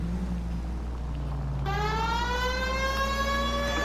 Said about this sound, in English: The siren is on, idiots.